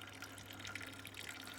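Water pouring steadily into a bucket during a slope erosion experiment outdoors, a faint continuous splashing trickle with small drips over a low background hum.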